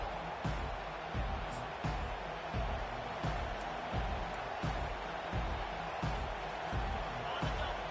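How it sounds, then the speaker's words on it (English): A home crowd roars at a college football game featuring the Sooners, a steady, dense wash of noise punctuated by regular low thumps. "this home crowd is fired up and ready to make a difference today"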